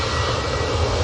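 An EasyJet airliner's jet engines roar at the airport, a loud, steady broadband rumble that holds for the whole short stretch with no other sounds over it.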